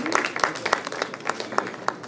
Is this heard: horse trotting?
no